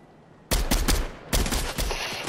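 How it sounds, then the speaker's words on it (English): Video game gunfire aimed at enemies, several loud rapid bursts of shots in quick succession after a brief quiet moment, close and sharp with short pauses between volleys. "So I'm about to start shooting at them."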